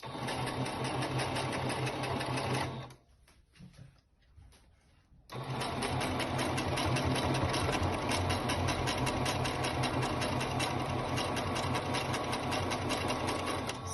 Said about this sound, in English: So now I finished the first one side of the mask, stitching first side of the mask.